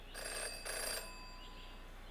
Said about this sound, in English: never to ignore a ringing phone